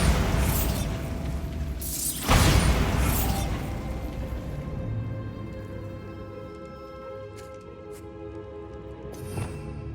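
A Bombarda spell explosion in Hogwarts Legacy, one sharp blast with debris and crumbling that fades into a long rumbling tail, followed by a faint second crack near the end.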